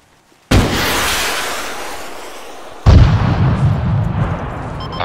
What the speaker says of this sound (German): Enemy fire! Taking fire! Taking fire! Enemy fire!